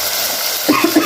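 Small onions, green chillies and tomato frying in oil in a pan, a steady loud sizzle with a few brief stirring knocks near the end.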